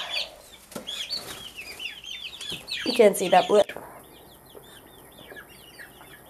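Backyard chickens, including a black copper Marans, cluck and chatter close by, with a loud burst of squawking in the middle, while someone talks over them.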